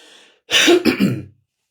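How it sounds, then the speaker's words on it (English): A lone speaker coughs and clears his throat in two or three rough bursts during a reflective talk, following a faint bit of trailing sound, then falls silent. "I don't know why I'm coughing."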